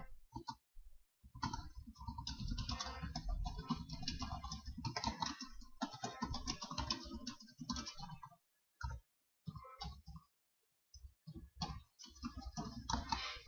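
Computer keyboard typing a question into a Google form, dense rapid key clicks in long runs broken by short pauses, close and distinct with no voices.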